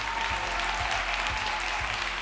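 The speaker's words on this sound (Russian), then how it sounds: "Улыбнитесь друг другу и поприветствуйте друг друга своими аплодисментами" Audience applause at a formal opening ceremony of a national student graduation, a steady dense wash of clapping with a few heavier low thumps, sustained and moderately distant throughout.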